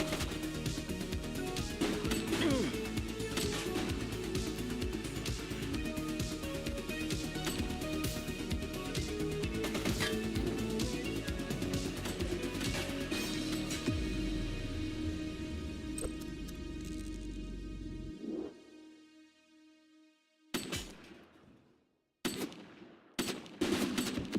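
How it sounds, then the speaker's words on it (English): Sustained gunfire from the video game The Precinct, dense rapid bursts with music and effects layered in for most of the stretch, then breaking off into a quieter gap before a few sharp isolated shots near the end. "He's shooting!"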